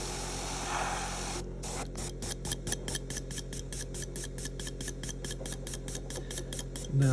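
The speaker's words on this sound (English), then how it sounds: "Now I'm just literally spattering it at the lightest touch, just getting this mist and splatter to appear" An airbrush spattering Archive-X weathering paint onto a model, first a soft continuous hiss, then a rapid, regular series of short sputtering bursts that are close and steady, with no talking.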